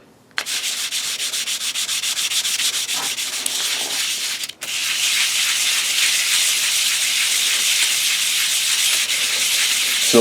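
A safflorite mineral specimen is rubbed back and forth on 220-grit sandpaper, making a loud, continuous gritty scraping with one brief pause midway before resuming steadily, close up with no talking.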